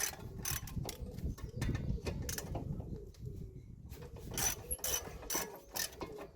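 Ratchet undoing 17 mm brake carrier bolts on a Mazda MX5 NC, a close run of rapid clicking pawl strokes in repeated bursts, moderately loud over faint background noise.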